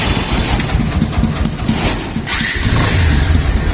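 A Pulsar 150 motorcycle engine revs loudly and roughly, dips midway, then settles into an uneven lower running note as it struggles to keep idling, close and alone.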